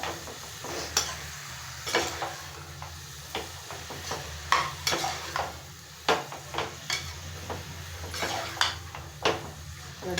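Vegetable pulao with mixed vegetables being stirred in a pan, with repeated scraping and clinking strokes of a spoon against metal at an irregular rhythm over a soft frying sizzle, close up with no talking.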